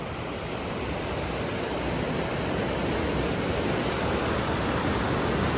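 Constant, dense rushing of falling water near the Falls of Falloch in the Scottish highlands, a loud, unbroken roar with no voices.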